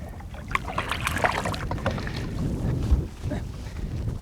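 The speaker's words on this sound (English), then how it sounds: "a lot of times the wind's picked up" Wind gusts over a fishing boat on Bay Springs Lake in Mississippi during largemouth bass fishing, a steady, close, rushing noise with buffeting against the microphone and no one speaking.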